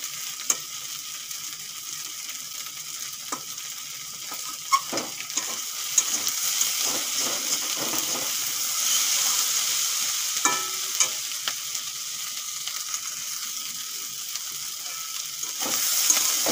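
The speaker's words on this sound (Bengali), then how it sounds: "ভাজা হয়ে গেছে, এখন তুলে নেব" Steady crackling sizzle of Malabar spinach fruits frying in a pan, with occasional stirring clicks and scrapes, continuous and close.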